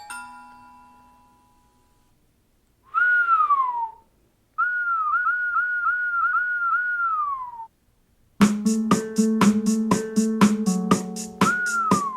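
Whistled notes ring out alone: a long held tone, a sliding phrase, then a repeated melodic figure, followed by brisk whistling over rhythmic clicking percussion.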